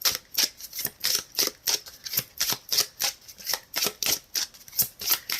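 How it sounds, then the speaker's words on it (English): Kipper deck cards shuffled up close, a steady run of about twenty crisp riffling bursts in an even rhythm, with no talking. "let me give you 2 cards from the Kipper deck"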